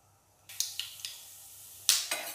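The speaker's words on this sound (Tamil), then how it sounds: "கடுகு நல்லா வெடிச்சிருச்சு" Mustard seeds crackle in about three spoons of hot oil in a kadai, the start of an onion and tomato kurma. Five or so sharp, irregular pops sound close but fairly quiet, with no talking.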